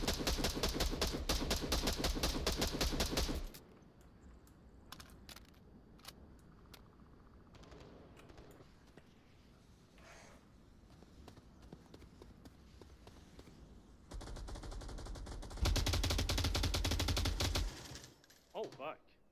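Rapid automatic gunfire in the VR shooter Onward rattles in a loud sustained burst at the start, drops to quiet shuffling and distant shots, then returns in heavy close bursts near the end.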